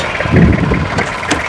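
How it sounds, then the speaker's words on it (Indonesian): A 1995 Isuzu Panther HiGrade diesel idles at the exhaust pipe, giving a steady low rumble that stays close and loud through a brief stretch. "Nah, ini knalpotnya."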